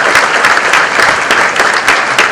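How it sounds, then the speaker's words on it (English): Loud, dense applause from a large audience of dealers at a commercial vehicle launch event, steady clapping filling the space with no voices. "So give all of yourselves a fantastic round of applause."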